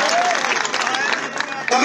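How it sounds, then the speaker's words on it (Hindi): A crowd claps at a political rally in Jhalawar, Rajasthan, a dense patter of applause mixed with crowd noise and a voice over it. "ठोको ताली ठोको जरा"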